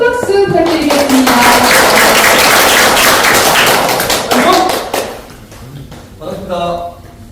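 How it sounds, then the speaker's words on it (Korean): A crowd at a fire-safety lecture by a firefighter from Nam-ulju Fire Station's Onyang 119 Safety Center claps loudly and steadily for about four seconds. A voice speaks just before and after, and the applause fades as talk resumes. "여러분 큰 박수 부탁드리겠습니다."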